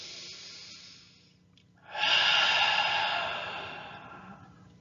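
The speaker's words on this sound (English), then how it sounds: "Breathing deep." Deep breathing close to the mic, a quieter breath easing off, then after a brief pause a long, loud, airy exhale that slowly fades, with no talk.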